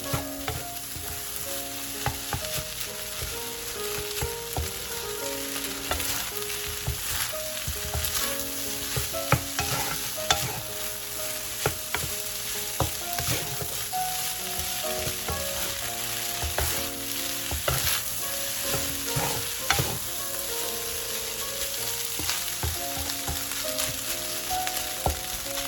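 Rice with shrimp and egg stir-fried in a wok, a steady close sizzle of frying broken by frequent scraping and clattering of the spatula, continuous for the whole stretch with no voices.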